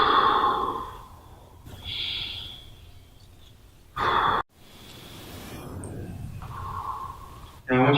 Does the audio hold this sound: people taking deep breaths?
yes